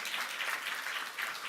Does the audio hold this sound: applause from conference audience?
yes